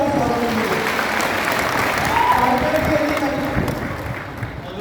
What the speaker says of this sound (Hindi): सर का जोरदार से तालियों से स्वागत कीजिए।